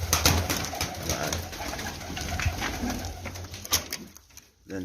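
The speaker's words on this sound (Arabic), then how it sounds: "عندنا هنا فرخات" Young pigeon chicks in a loft giving soft repeated coos and calls up close, among rustling and fluttering movement, with no talking.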